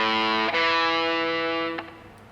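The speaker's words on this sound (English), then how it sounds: "A fifth is this." A perfect fifth interval rings out on a distorted electric guitar, picked and sustained alone, re-struck once before fading near the end.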